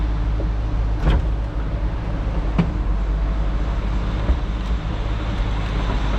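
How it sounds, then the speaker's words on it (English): Electric window motors whirring inside a 1995 Ford Mustang GT with a 5.0L 302 V8, a steady motor drone with a few brief clunks as the glass stops. "Power window motors, they both work."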